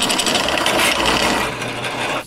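A power tool cuts a hole through a metal base plate for a custom chainsaw mount, a steady close grinding rasp that runs loud for about two seconds before cutting off abruptly.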